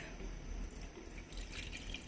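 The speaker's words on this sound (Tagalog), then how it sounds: "ilagay natin ang ating tubig" Water running steadily into a cooking pot for a sweet potato and bitter melon leaf soup, a continuous close splashing trickle with a few drip-like accents, heard alone without talk.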